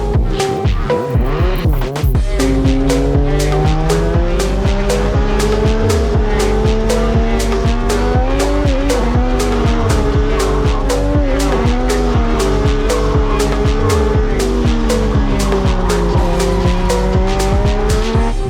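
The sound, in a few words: Legend race cars driving at Misano circuit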